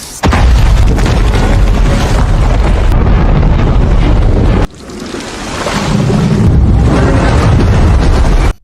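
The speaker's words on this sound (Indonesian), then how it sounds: "terjadi ledakan hebat hingga menghancurkan tanggul" A massive, deep explosion destroys a dam in a film, roaring out, followed by sustained rumbling and rushing turbulence that swells again, loud and close throughout.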